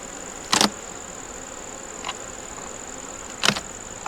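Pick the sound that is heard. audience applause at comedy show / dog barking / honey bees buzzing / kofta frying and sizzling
honey bees buzzing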